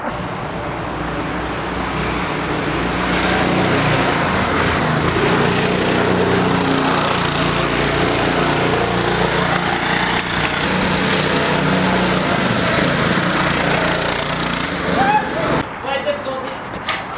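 A homemade go-kart engine drones steadily and loudly throughout as the kart races, with people talking over the motor and the engine noise breaking up near the end.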